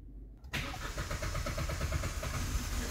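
A Hyundai HB20 with a fuel fault and long cranking catches after a short crank and then settles into a steady, rumbling idle, heard close with no speech.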